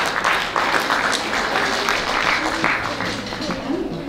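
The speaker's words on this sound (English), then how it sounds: "Bravo, let's give a big clap." An audience at a school band concert claps continuously, a dense, even wash of applause with voices mixed in.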